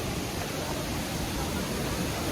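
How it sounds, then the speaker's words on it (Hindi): A waterfall near Rishikesh roaring as a dense, even wash of rushing water, loud and constant with no breaks. "ये तो है वाटरफॉल"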